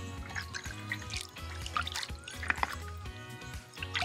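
Water emptied out of a balloon worn over a foot by a pool, trickling and dribbling in uneven spurts with small drips and splashes, faint and close.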